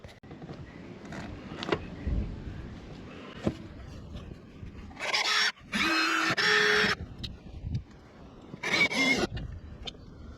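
A power driver sends a screw into a pilot hole during an aircraft canopy lift-assist install, with two or three short whirring bursts between quiet handling clicks and shuffling.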